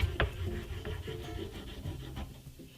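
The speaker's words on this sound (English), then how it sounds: "It's also good practice to sharpen all over your stone." A Felco #2 pruning clipper blade is rubbed against a coarse Norton India sharpening stone in repeated gritty scraping strokes, close and fairly quiet.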